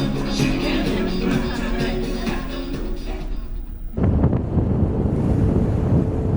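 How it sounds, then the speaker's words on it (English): A cruise ship sails the open North Pacific at night. Strong wind buffets the microphone over a steady rush of waves and hull wash, with a sudden shift in the roar partway through. "The cruise ship is sailing on the vast North Pacific Ocean, all the way north."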